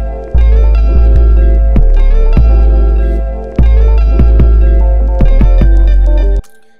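Kick drums played dry from a sampler in Ableton, with no effects: a handful of deep, booming hits with long sustained low tails, spaced irregularly and loud, with brief higher clicks on the attacks.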